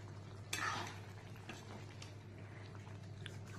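Chicken and mustard greens stir-frying in a pan, a steady low sizzle with a brief louder stirring scrape near the start and faint utensil clinks, no talk.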